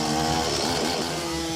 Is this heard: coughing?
no